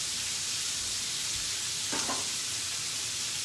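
Onions for French onion chicken thighs sizzle steadily in a Dutch oven, a constant close hiss with a brief scraping stir partway through; no talking.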